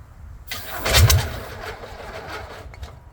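A VW-engined rat rod fires up after fuel is squirted in, a short close burst of cranking and catching that swells loud, then drops to a rough, faltering running sound with a few sputters.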